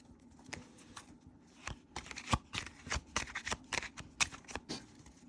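A deck of embossed-finish oracle playing cards is shuffled close by in quick repeated riffles, with soft papery flutters and taps coming in bursts.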